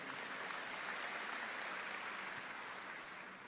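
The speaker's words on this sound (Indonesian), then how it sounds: "Yang setuju berikan tepuk tangan yang meriah." A church congregation at a sermon in Graha Bethany Nginden gives a faint, distant round of lively applause, a soft continuous wash of clapping lasting a few seconds.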